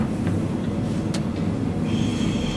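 A Berlin S-Bahn class 484 train running on line S47, with a steady rumbling roll of wheels on track, a brief high squeal partway through and a thin whine later, heard from on board with no talking.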